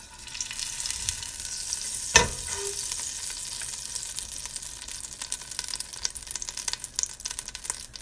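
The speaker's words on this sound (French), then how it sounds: "Je vais mettre un petit morceau de beurre." A small knob of butter sizzles and fries in a hot pan, a steady frying hiss throughout with a sharp clink of a utensil near the start, while cooking a couscous with peas, broad beans and vegetables.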